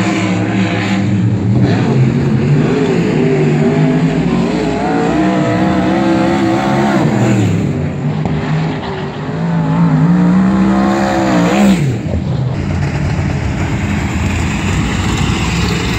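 Speedway race cars roaring around the track on the final lap, a loud continuous engine drone with rising and falling pitch as cars pass close by, steady throughout with no talk.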